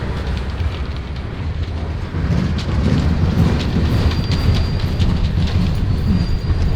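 A freight train rolls past in Mexico, a loud close rumble of rail cars with clanking and rattling wheels that grows heavier midway, with faint squeals and wind over the steady roar.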